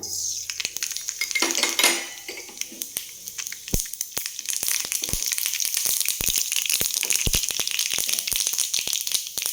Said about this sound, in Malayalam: കടക് പൊട്ടിക്കഴിയുമ്പോൾ